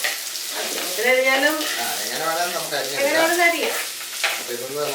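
Sliced onions fry in a pan for a chicken perelan, giving a loud, continuous sizzle with stirring, and muffled voice-like tones run through it.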